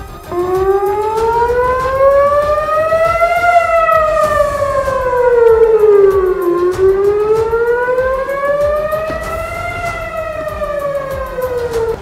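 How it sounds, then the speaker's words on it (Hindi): Loud civil defense air raid siren sounding over a city under rocket attack in Ashkelon, Israel, its steady wailing tone rising and falling in slow sweeps that fill the whole stretch with no voices. "तभी शहर में लोगों को आगाह करने के लिए हमले के सायरन बजने शुरू हो गए"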